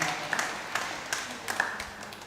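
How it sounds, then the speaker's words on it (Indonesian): Applause from a gathering of Catholic women at a Lenten Eucharist celebration, a short burst of scattered hand claps with a few sharper individual claps standing out, fairly close and moderately loud. "Tepuk tangan untuk para ibu"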